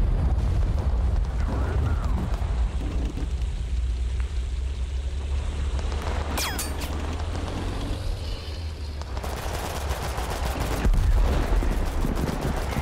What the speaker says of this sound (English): That's right, shoot RPGs at the house.